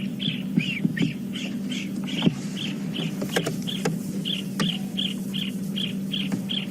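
An apalis calls from a buffalo thorn tree, a rapid regular series of short high notes repeating steadily over a low vehicle hum, with a few clicks and knocks nearby.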